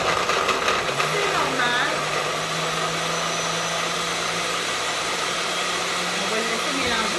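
A blender runs steadily, mixing a ginseng smoothie with milk and a little ice; a loud continuous motor drone holds throughout, with a voice speaking briefly over it near the start.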